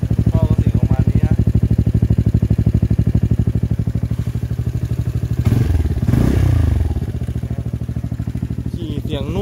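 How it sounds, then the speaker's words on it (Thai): A Honda Forza 300 scooter fitted with a new exhaust idles up close with a steady, rapid low throb and a light mechanical rattle. Midway a brief muffled rumble or voice rises over the engine. "มาดูนี่ก็คือเสียงครับ ก็เสียงแคมหรือเสียงโชควะ ดังกว่าท่อเองครับ"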